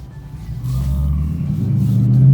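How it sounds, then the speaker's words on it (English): Cars sit in a traffic jam on an East Los Angeles street, giving a low, steady engine rumble close by that swells slightly over a couple of seconds, with no talking. "I'm on a traffic jam, but as you guys can see, the line goes all the way over here"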